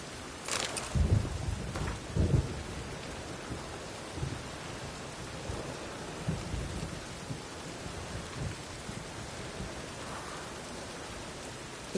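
Steady rain pattering on a surface, with low rumbles of thunder rolling in early and again a few times, fairly close.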